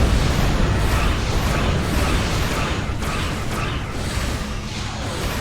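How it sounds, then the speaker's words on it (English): Torpedo blast tearing into a frigate during a Star Trek Online space battle: a loud, dense roaring explosion with crackling bursts and whooshes that rumbles on steadily for several seconds, no voices. "That last torpedo finished them off"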